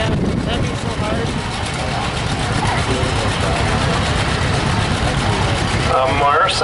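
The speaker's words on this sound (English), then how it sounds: "A Marsa tractor, owned by Kent Marsa, a 42 John Deere B" A 1942 John Deere B tractor engine running, a steady low rumbling chug heard continuously under people talking, fairly loud and close.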